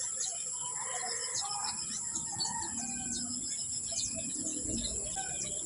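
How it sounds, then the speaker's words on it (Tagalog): Birds chirp and chickens cluck on and off across a steady outdoor backdrop of buzzing insects in front of a small shop, all at moderate distance. "para makinig ng mga huni ng ibon"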